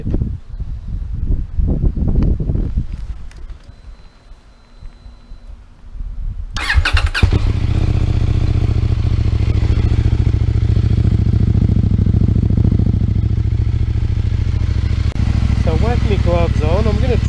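A CF Moto MT800 motorcycle fitted with a new exhaust is started after some rustling and handling noise, then idles loudly and steadily close by. Near the end it gives a short rev.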